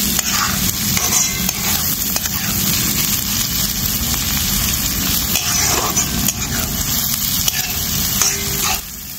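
Chopped onion and tomato sauté in a hot pan for sushila, a dense continuous sizzle and crackle with scraping stirring throughout, close and steady.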